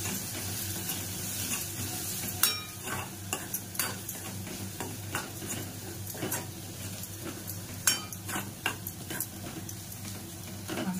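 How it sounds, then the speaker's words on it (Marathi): Spices and mutton masala fry in oil in a pan with a soft, continuous sizzle, broken by a spoon stirring and scraping, with occasional sharp clinks of metal against the pan. "मसाले आपले छानपैकी तेलात भाजले।"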